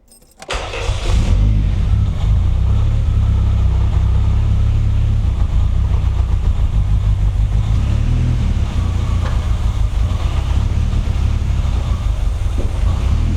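A light 700 kg car with a big turbo fires up and settles into a loud, rough idle, a deep continuous rumble with uneven pulses from the exhaust, close by and holding steady throughout.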